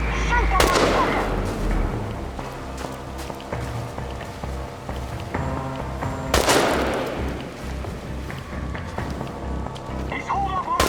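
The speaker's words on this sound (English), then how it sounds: "Shoot that motherfucker!" Gunfire in the video game Chernobylite: two heavy, booming shots with long rumbling tails ring out amid scattered smaller cracks and background clatter, and a voice speaks over part of it.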